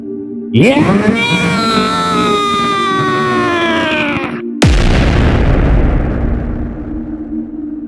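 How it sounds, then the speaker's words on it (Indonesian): A loud, strained wailing roar builds and holds, then cuts off into a sudden booming energy explosion sweeping a crater, which rumbles and slowly fades. "Ledakan energi menyapu kawah, menciptakan kubah api"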